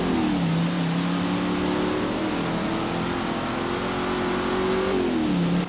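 Car engine in Forza Horizon 3 revving loud and close, a steady roar that climbs and dips in pitch over several seconds with no voices.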